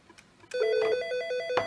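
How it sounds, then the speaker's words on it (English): A Nortel M2008 digital telephone ringing with an incoming call: a loud, close electronic ring of rapidly warbling tones that starts abruptly and continues steadily, with a clunk near the end. "getting some incoming calls to this phone"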